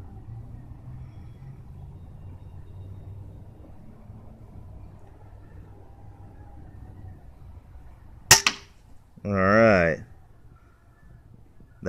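A 50 lb MK-A2 crossbow pistol fires a bolt at a coconut 20 feet away: a sharp snap of release and impact rises out of a quiet background, followed by a brief burst of a voice.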